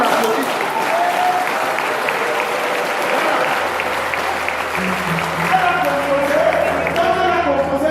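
A church congregation claps continuously and loudly throughout, a thick wash of hands. A low sustained tone, like an organ or keyboard, enters partway through beneath the clapping.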